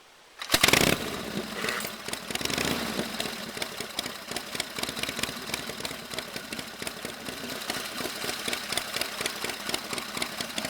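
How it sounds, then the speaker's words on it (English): A kick-started 1929 Harley-Davidson twin-cylinder motorcycle engine starts with a burst, then idles with a steady, loud, uneven chugging and mechanical rattle. "The engine, you can see, is turning over"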